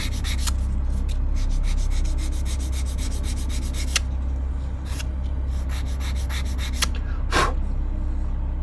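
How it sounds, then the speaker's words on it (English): Close, steady sanding of a wooden part for a 1:50 scale Flying Dutchman model ship kit, shaping it into a curve, with rapid repeated back-and-forth rasping strokes over a constant low hum, a few brief pauses between passes. "I'm actually going to sand it"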